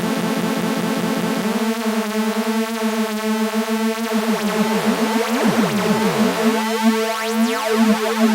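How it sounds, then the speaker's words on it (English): A synth tone with a sweeping flanger effect, its jet-like whooshing comb sweeps speeding up and intensifying toward the end. "your typical flanger sound"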